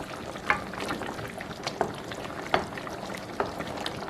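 A pot of coconut curry beef with carrots simmers, giving a steady soft bubbling with occasional louder pops and light clinks, close and fairly quiet, with no voices.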